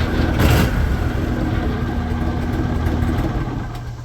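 A refurbished 2001 Argo Bigfoot 6x6 amphibious extreme terrain vehicle idles close by with a steady mid-pitched engine drone and a slight swell near the start. No one talks.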